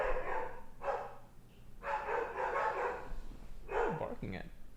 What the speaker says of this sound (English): I don't know if you guys can hear barking.